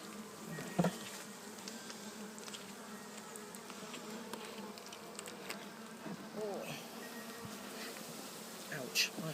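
Honey bees in a top bar hive, opened for an inspection of the comb, make a steady soft buzzing swarm drone. It runs throughout, with a few louder passes close by.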